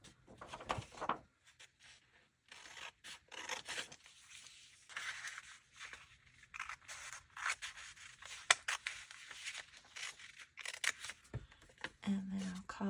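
Scissors cutting paper for a mushroom journal give a run of close, crisp snips and rustling paper that continues through most of the stretch, with soft handling sounds between cuts.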